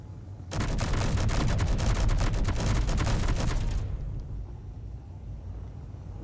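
Sustained rapid automatic gunfire in a combat game, a loud continuous burst lasting about three seconds with distinct rhythmic shots, then cutting off to a quieter rumbling background.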